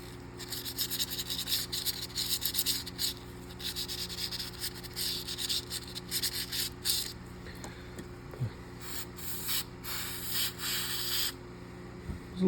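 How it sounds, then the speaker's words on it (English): A brush or pad scrubs crud off the brass of a pocket knife in repeated rough rubbing bursts, close and fairly quiet, with short pauses between strokes and a faint steady hum behind. "Kind of get some of the crud off the brass."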